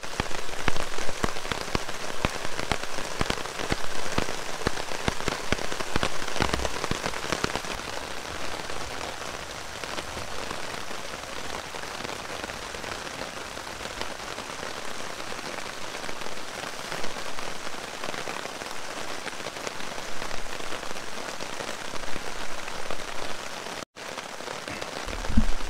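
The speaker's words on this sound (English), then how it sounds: "It's like the lightning and the thunder and the rain's just coming down." Heavy storm rain pours down in the Adirondacks, a dense steady hiss of drops drumming on surfaces that stays loud and even throughout with no voices.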